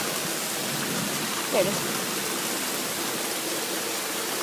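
Heavy rain pours in a dense, continuous hiss, loud and steady throughout, with a brief voice heard under it.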